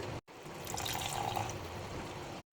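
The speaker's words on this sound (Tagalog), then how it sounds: "Lagyan ko ng chicken broth." Chicken broth poured into simmering mapo tofu sauce in a home kitchen, a continuous liquid splashing and gurgling stream lasting a couple of seconds.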